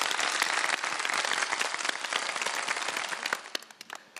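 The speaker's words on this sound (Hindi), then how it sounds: "तालियां बजा दें मुस्कान के लिए" Applause from a seated audience at an informal gathering, fairly quiet and dense at first, thinning into scattered claps toward the end.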